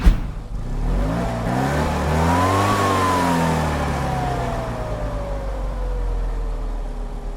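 A Fiat Panda 30CL engine in Gran Turismo revs up in a rising whine, peaks, then slowly winds down in a long falling pitch, loud and alone with no talk.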